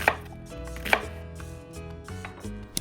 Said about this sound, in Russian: Нарезаем крупными кубиками.